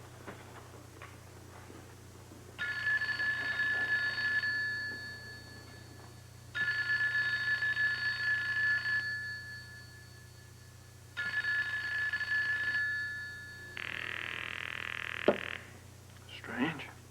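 A telephone rings through the line, unanswered, for a newspaper's private office number: three long ringing bursts separated by pauses, over a steady low hum, ending with a short tone.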